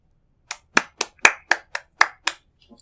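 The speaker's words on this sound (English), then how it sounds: "That's not sarcastic clapping, by the way. It's just applause." A single person claps eight times in a steady, moderately quick rhythm, each clap sharp and close against near silence.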